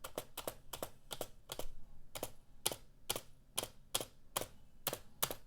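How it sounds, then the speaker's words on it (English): Rapid clacking of keys on a cheap keyboard, typed in uneven bursts with sharp, close clicks and no talking. "Now let's hear what it sounds like when you're typing."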